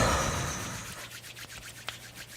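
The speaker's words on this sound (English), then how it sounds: "So let's just rub our hands first." Palms rub briskly together in a soft, close, dry swishing that starts strong and fades, ending with a couple of faint light taps.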